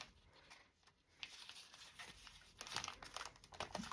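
Paper crinkles and rustles softly as it is folded in half by hand for a hummingbird rose journal, a faint, close crumpling that grows busier toward the end.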